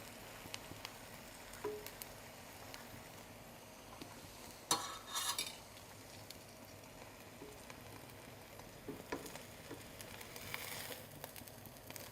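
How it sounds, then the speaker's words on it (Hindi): Egg yolk frying in a little oil in a pan, a faint, steady sizzle with occasional utensil scrapes and one brief louder stir in the middle, quiet and close with no talking. "जर्दी जो हमने अलहदा ली थी अब उसको पकाएंगे थोड़ा थोड़ा डाल के।"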